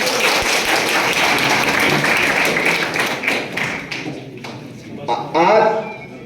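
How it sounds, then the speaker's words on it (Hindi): Applause for a visiting dignitary at a press club welcome in New Tehri, Uttarakhand, with loud, dense clapping that thins out and fades midway, followed by scattered claps and a voice at the end. "तालियां बजाई जाए।"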